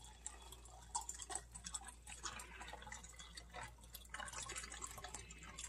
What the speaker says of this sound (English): now we're just going to pour this tea right over the top of this ice